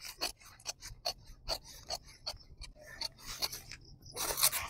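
Scissors snip through paper or fabric along a sleeve pattern's outer line in a quick run of sharp, close cuts, each a crisp crunching blade stroke, ending in a longer louder rasping cut.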